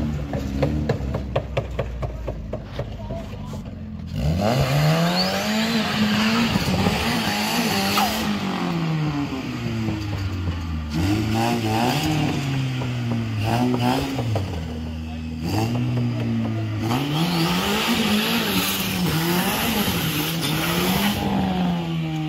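A loud, revving turbocharged car engine rises and falls repeatedly with screeching tire squeals as the car does donuts, punctuated by brief pauses.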